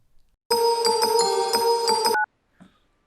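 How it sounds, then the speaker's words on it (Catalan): A mobile phone ringtone plays a bright, steady electronic melody with pulsing tones for under two seconds. A short chime follows as the call connects, then a faint noise. "anem a cridar en el Pare Noel. On he deixat el mòbil?"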